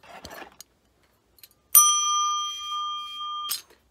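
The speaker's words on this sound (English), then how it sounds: "There is a bell here." Bell ding sound effect: one sharp, bright metallic strike that rings out with a steady sustained tone for nearly two seconds before cutting off, after brief faint rustling.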